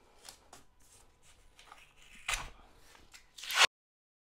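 Blue painter's tape is handled and cut on shower tile, giving a series of short crinkles, snips and tearing scrapes, close and quiet, that end in a louder rip before sudden silence.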